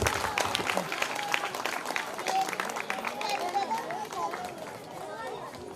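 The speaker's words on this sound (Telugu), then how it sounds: "బిగ్గరగా చప్పట్లు కొట్టండి." A church audience at a semi-Christmas gathering claps in a broad, sustained burst that slowly thins out, with crowd chatter and voices mixed in under the applause.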